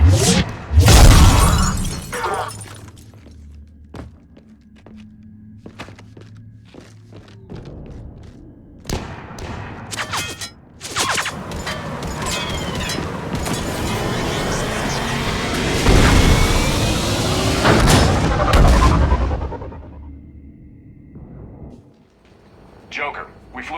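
Loud gunfire bursts, crashing impacts and booms in a Mass Effect 3 firefight, dense and continuous through long stretches with brief quieter gaps, while voices talk over the combat.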